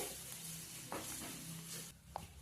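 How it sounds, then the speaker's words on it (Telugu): Turmeric and ginger garlic paste sizzle in a hot pan on low heat while a spoon stirs them, giving a steady close frying hiss with a few scraping strokes. "పచ్చివాసన పోయేంత వరకు సిమ్లో పెట్టుకొని మంచిగా కలుపుకోవాలి"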